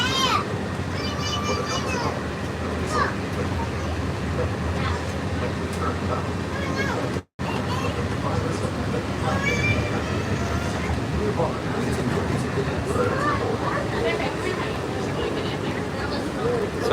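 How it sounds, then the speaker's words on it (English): Walt Disney World Monorail train rolling along its beam, a steady close rumble with rail-like clatter and hum heard from inside the car, continuous for the whole stretch apart from a brief dropout. "Welcome aboard the Walt Disney World Monorail."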